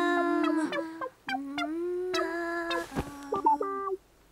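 A cartoon voice imitates a chicken clucking, giving a run of sharp, bouncy, nasal cluck-like calls in a short rhythmic burst, loud and close with no other sound.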